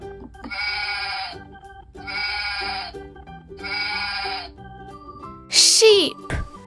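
A sheep bleats three times at an even pace, each a clear, drawn-out, wavering call, followed by a brief sharp, higher-pitched cry at the end.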